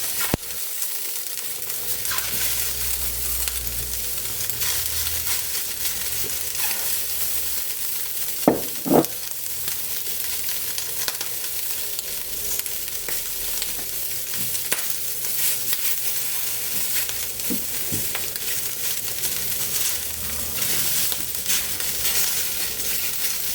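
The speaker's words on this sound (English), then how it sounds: "the pan is smoking hot, so let's add our tentacles" Octopus tentacles sear in a smoking hot pan, giving a loud, steady sizzling hiss that fills the whole span, with a few metallic clinks and stirring scrapes mixed in and nobody speaking.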